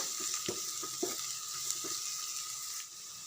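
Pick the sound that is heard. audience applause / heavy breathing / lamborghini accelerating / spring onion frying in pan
spring onion frying in pan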